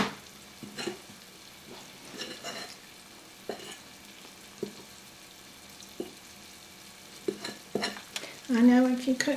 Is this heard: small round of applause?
no